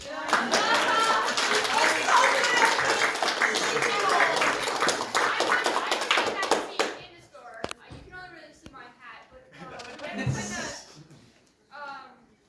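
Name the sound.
audience applause for the cast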